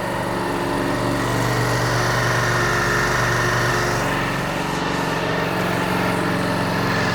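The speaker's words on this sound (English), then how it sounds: "And just let it idle, no throttle." A new 2025 Ducati Panigale V4 sits idling with no throttle, giving a steady loud mechanical drone with a constant low hum and high whine, close and unchanging, with no voices.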